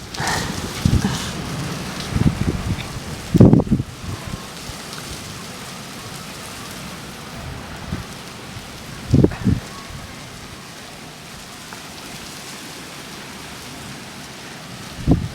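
Steady rain falling on a surface in Tamnougalt, Morocco, with a few louder thumps and knocks breaking through the continuous patter.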